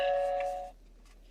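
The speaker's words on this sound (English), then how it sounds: "So I'm gonna just press the doorbell." A smart home doorbell chimes once when pressed: a clear, bright electronic tone rings for about half a second and then fades, followed by quiet room sound.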